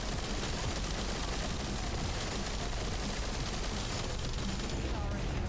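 Rockets fire in rapid succession in the video game The First Descendant, a dense continuous barrage of blasts and rumbling explosions, steady and fairly loud, with voices faint underneath.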